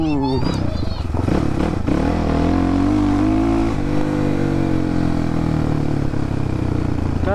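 A Crossfire motorcycle engine drones loudly and continuously during a ride, its pitch rising and falling as it revs, with a person talking over it.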